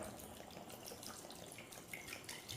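Water pours into a curry pot, chicken with sour bamboo shoots cooked in a rice cooker, with a steady splashing, trickling wash that runs the whole time at low level, slightly louder toward the end.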